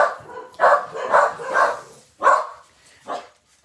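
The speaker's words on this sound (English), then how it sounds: "That's Benji. He doesn't usually bark" A dog indoors gives a run of loud, close barks, about six in a broken rhythm with short pauses between them, the last few spaced farther apart.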